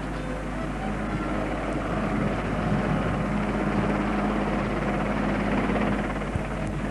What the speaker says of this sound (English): As the helicopter approaches the dropping zone, the spire begins swinging like a giant pendulum.